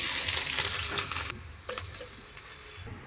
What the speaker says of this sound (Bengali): আমি পেঁয়াজটা বেশি ভাজবো না হালকা ভেজে নেব